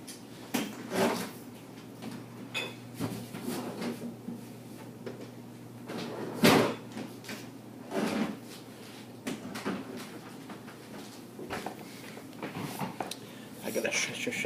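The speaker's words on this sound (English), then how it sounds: "I gotta shut that fridge door, otherwise it'll beep forever" A kitchen fridge door is pulled open and later pushed shut, soft thuds and rattles spread over a quiet room while someone talks throughout.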